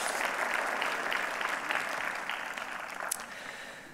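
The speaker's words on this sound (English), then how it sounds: "So you can give yourselves a round of applause for being here in the very first." Audience at a higher-education conference on the Erasmus+ programme applauding themselves, a steady burst of clapping that gradually tapers off over a few seconds.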